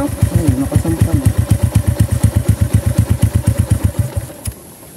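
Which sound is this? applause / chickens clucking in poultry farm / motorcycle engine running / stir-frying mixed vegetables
motorcycle engine running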